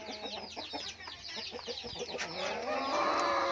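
Several laying hens of a Thai native breed cluck and squawk close by in quick, overlapping bursts, with rustling and a louder rising call near the end.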